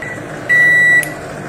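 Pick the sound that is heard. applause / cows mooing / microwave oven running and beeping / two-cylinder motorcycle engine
microwave oven running and beeping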